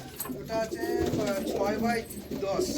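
Pigeons cooing inside a rooftop loft where male and female birds are kept, soft rolling coos repeating close by under a voice talking throughout.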